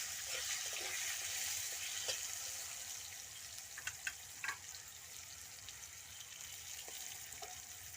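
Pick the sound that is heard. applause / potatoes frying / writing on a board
potatoes frying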